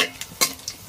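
Red chillies and cumin fry in oil in a pan, making a short crackling sizzle punctuated by a few sharp stirring clicks.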